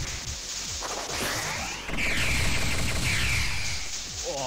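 Rapid bursts of gunfire and crashing impacts from the Acceleration of Suguri X Edition anime shooter game, dense and continuous with whooshing effects layered over a steady electronic backdrop.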